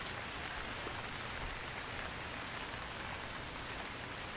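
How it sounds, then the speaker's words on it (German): Continuous rain hisses on surfaces at night in the survival game Stranded Deep, a dense, even patter of drops with no talking. "Sternklare Nacht und trotzdem regnet es."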